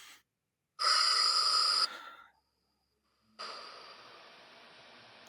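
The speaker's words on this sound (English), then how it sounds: "now just taking a deep breath in" A deep breath during a guided visualization exercise: a loud, close inhale lasting about a second, a brief pause, then a long, softer exhale that trails off gradually.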